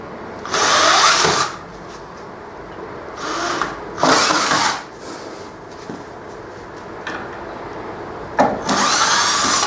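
Cordless power drill backing screws out on a shack, whirring in five separate bursts of one to two seconds each with quiet gaps between, close and loud.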